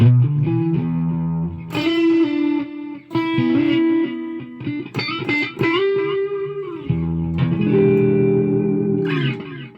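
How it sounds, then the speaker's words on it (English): Electric guitar notes ring out with a tape-style delay from a ToneX pedal, each phrase repeating and trailing off in softer echoes. "open up delay, turn the delay on, choose where we want tape, and take a listen"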